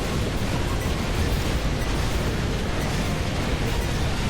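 Cannon fire and explosions in the Hyrule Warriors video game form a dense, continuous roar of blasts that stays loud and steady throughout, with no speech.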